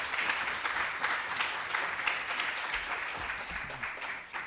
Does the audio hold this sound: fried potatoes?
no